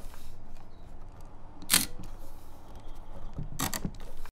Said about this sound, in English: The shutter, what can I say? It is sweet and whispery to the point of being musical.